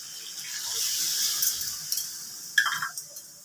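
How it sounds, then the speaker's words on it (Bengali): Broth poured into a pan of Bengali gang dhara fish curry after the spices are fried, a soft continuous watery pour with a brief splash near the end, heard close and fairly quiet. "এবার আমি ঝোলটা দিয়ে দিচ্ছি।"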